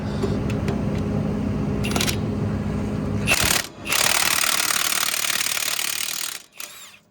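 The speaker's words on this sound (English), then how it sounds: "Oh, had to hammer on that one a little bit." Hammer blows on a tight, stuck bolt during repair work on a dozer, loud and close, with metallic impacts and a harsh grinding, ringing texture that runs almost continuously with brief gaps.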